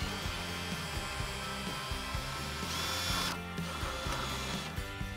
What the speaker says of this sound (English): Notice I've got the cordless drill up here.